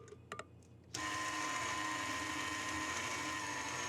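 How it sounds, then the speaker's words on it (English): An electric stand mixer beats butter and sifted icing sugar for carrot cake frosting, starting abruptly after a few faint clicks and running as a steady, loud continuous whir that fills the rest of the moment. "with 1/4 cup of butter already in my mixer. I'm gonna beat that first just to smooth it out"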